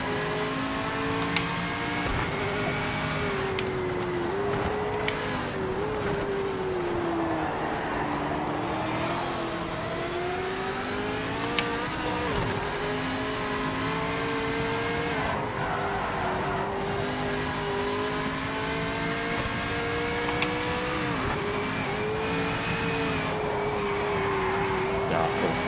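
A race car engine in a video game drones steadily throughout, rising and falling in pitch with shifts and revs, loud and continuous with no talking.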